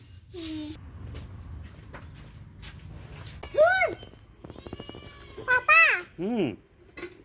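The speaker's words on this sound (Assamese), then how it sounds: "কেনেকৈ কৰে মেকুৰীয়ে" A cat meows around a rural home, with several short, distinct meows close by and a couple of rising cries near the end, separated by quiet moments with faint background noise.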